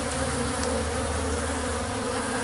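Bees buzzing around a sugar water feeder outdoors: a steady, dense, close hum of many insects, continuous and even throughout with no pauses and no talk.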